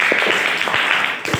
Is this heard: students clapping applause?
yes